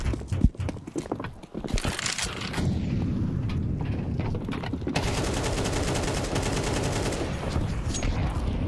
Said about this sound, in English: That was a lot of bullets he just missed.